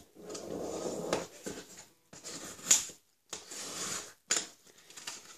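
Crisp origami paper rustling and creasing in short bursts as it is folded and turned over, with brief pauses between handling sounds, close up and fairly quiet.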